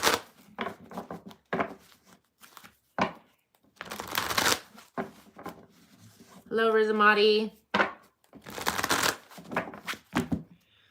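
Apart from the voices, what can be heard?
tarot cards being shuffled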